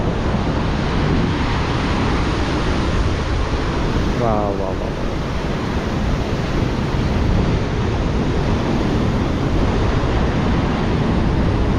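Powerful southern-sea surf at Seruni beach in Donorojo, Pacitan, a continuous loud roar of breaking waves mixed with wind buffeting the microphone, with one brief exclamation from a voice partway through.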